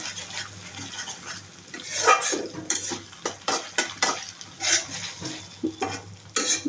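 A ginger and onion paste masala gets stirred in a frying pan, with a spoon scraping and clinking in uneven bursts over a steady close sizzle.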